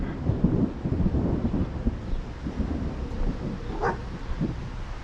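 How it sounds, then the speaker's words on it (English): Thunder rolls during an outdoor walk near a ranch in a storm. A low, heavy rumble swells and fades over several seconds, with wind buffeting the microphone and a faint brief sound near the end. "yeah, that was a thunder boomer"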